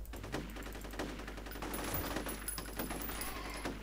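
Rapid bursts of gunfire in the video game F.E.A.R. rattle steadily throughout, sharp repeated shots over a low constant hum, with no speech.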